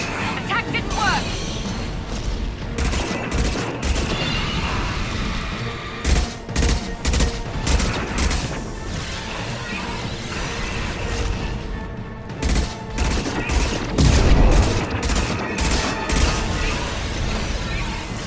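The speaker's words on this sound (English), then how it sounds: "Firing anti-ship batteries at collector vessel." Sci-fi weapon fire from anti-ship batteries hitting a collector vessel in the game Mass Effect 2, a dense barrage of booms and crashing blasts that fills the whole stretch with heavy, continuous rumbling under game noise.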